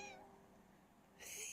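A small cat gives two faint, short meows in a quiet room, one at the very start and another near the end, with near-silence between.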